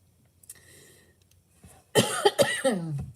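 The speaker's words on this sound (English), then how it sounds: "My allergies are starting to pop up, so I'm going to start coughing my head off" A woman coughs from allergies, a quiet pause followed by a burst of several sharp, close, harsh coughs in quick succession.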